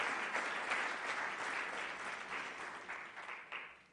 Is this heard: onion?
no